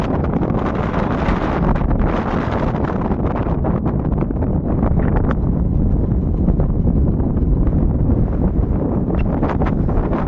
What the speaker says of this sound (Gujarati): મારો અવાજ નહીં આવતો હોય ઓછો આવતો કારણ કે પવન બહુ છે